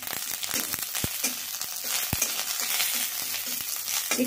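Fenugreek, mustard seeds and curry leaves sizzling in hot oil, a dense steady crackling hiss with a couple of sharp pops, close and continuous with no talking.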